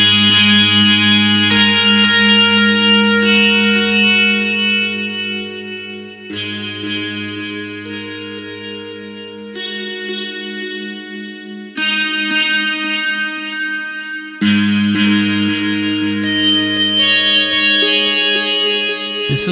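Endless Guitar's Sweet Sorrow patch from Triple Spiral Audio plays a sampled electric guitar with distortion, chorus and reverb, sounding sustained chords that shift every few seconds, loud and close, with no voices.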